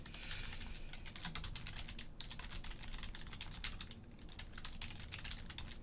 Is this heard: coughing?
no